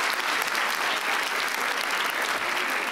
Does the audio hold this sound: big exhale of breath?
no